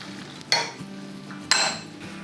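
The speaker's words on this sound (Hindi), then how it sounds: "अब हम अपना आधा कप टोमेटो प्यूरी डाल के और फिर थोड़ा सा भून लेंगे।" Tomato puree being fried into onion masala for a potato chicken curry, with two distinct stirring scrapes of a utensil in the pan over a low steady sizzle, close and fairly quiet, no talking.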